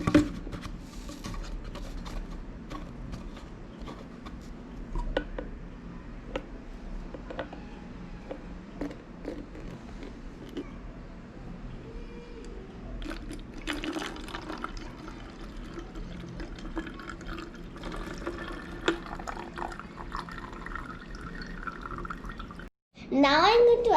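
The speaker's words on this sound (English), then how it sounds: "I'm going to pour the vinegar till this mark." Vinegar poured into a plastic bottle, a soft continuous liquid trickle running for a long stretch at close range, with a person talking over it.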